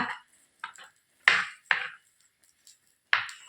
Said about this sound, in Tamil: இப்போ ஒரு டைம் நல்லா கிண்டி கொடுத்துக்கோங்க